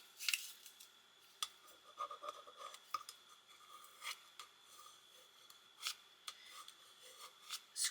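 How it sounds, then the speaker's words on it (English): A scraper tool is rubbed across craft vinyl for a Cricut Christmas project in a series of quiet, close, irregular scratching strokes with short pauses between, with no voices. "Scraping this down."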